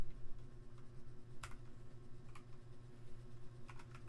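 Java code typed on a computer keyboard: faint, irregular key clicks in short bursts over a steady low hum, with no talk.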